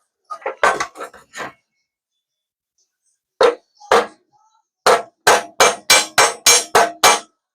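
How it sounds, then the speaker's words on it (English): Sharp metallic hammer strikes on metal while fabricating a Terraplane trunk lid: a quick burst of four or five, a pause, two more, then a steady run of about eight ringing blows, close and loud. "you can hear it pinging when you hit metal to metal"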